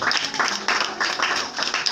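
Congregation clapping during a church service, a steady burst of applause filling the room for about two seconds.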